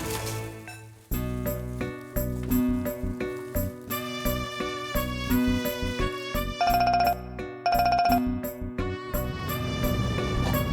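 A phone rings on an outgoing call, playing a repeating melodic ringtone with a steady rhythm of tones, loud and close with no talking over it.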